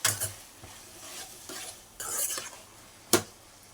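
Mutton and drumstick curry being stirred in a pot, with spoon scrapes and clinks against the metal at a few irregular moments over a faint sizzle, close and fairly loud, no talking.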